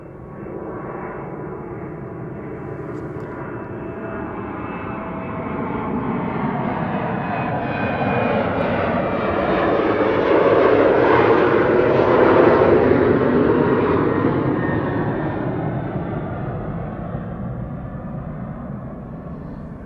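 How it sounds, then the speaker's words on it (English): A KLM Boeing 737-900 departs Amsterdam Schiphol Airport on a sunny winter day, its jet engines building from a distant roar to a loud, broad rumble that swells and slowly fades, with no talking. "KLM flight 1583 on the right to Lisbon, that's a 737-900."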